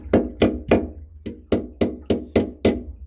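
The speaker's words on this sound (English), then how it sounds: "I might just give it a couple more knocks" Hammer blows driving a metal spike into the hull of a house boat, eight loud, close, evenly spaced knocks with a brief pause after the third, each ringing off sharply and heard alone.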